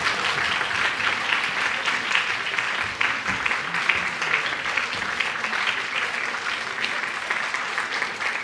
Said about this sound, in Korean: 큰 박수 한번 해주시기 바랍니다